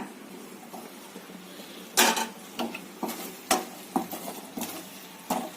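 A spoon scrapes and knocks against a pot while thick carrot halwa is stirred, a series of sharp, close metallic clinks in an uneven rhythm with no talking.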